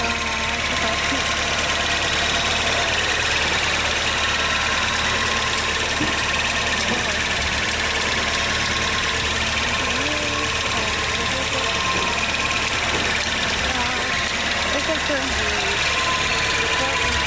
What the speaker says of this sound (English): at last, the engine is running now.